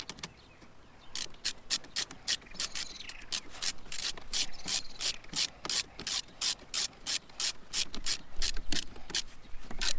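Ratchet wrench tightening new screws to refix a brake caliper onto its support on a Renault Trafic, giving a rapid, regular series of close, crisp clicking bursts that run steadily throughout.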